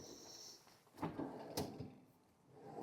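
A refrigerated cooling drawer under a luxury kitchen counter slides and thuds open or shut with two soft, close knocks about half a second apart. It is quiet overall, with faint room tone and no voices.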